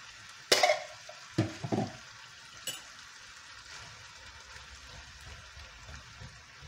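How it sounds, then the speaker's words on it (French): A can of whole tomatoes is poured into a hot pan of aubergine for a gratin, giving a brief splashing, sizzling burst and a few wet plops, then fading to a low simmering hiss. "Et je rajoute ma boîte de tomates entières."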